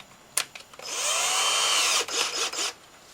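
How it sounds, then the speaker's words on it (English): A cordless drill whirs steadily for about a second, then slows and revs in a few short bursts. It is close and loud, with a tap at the start. "chuck this into the cordless drill"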